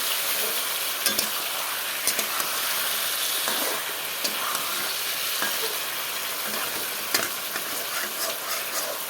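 Ridge gourd frying in a pan until browned, a loud steady steamy hiss and sizzle running throughout, nearby, with occasional scraping stirs and light clicks from a spatula, no voices.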